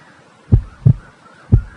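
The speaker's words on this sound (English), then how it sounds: "beating of heart" Three soft, low thumps of a heartbeat, close and isolated, spaced irregularly against near silence.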